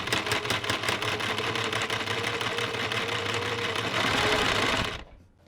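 Sewing machine stitching a shoulder seam during a garment alteration, a rapid, even mechanical chatter running close and loud for several seconds before stopping abruptly.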